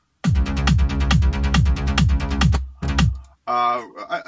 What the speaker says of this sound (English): the very first bassline layer I can show you would sound like this.